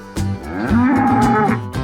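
A cow moos on a farm in one long, loud, close call that rises and holds steady, alone with no talk.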